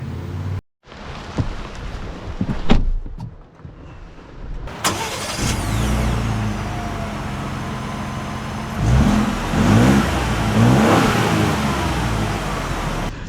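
Ford Ranger truck with a 2.7-litre V6 pulling away, the engine revving and climbing through gears after a door thump and cabin sounds, fairly close and clear with no one talking.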